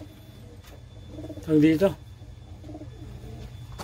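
Pigeons cooing in a loft, a few soft throaty coos rising briefly in the middle while someone talks nearby and faint background noise continues.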